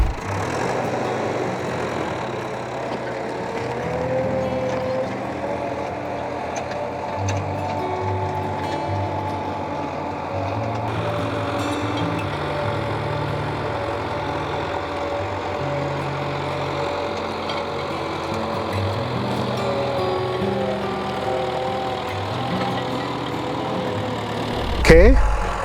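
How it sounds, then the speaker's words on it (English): A tractor engine hums steadily in the distance while plowing a maize field, a continuous mid-pitched idle-like drone throughout, with a brief louder knock near the end. "Yeah, there's a tractor right there in the distance moving."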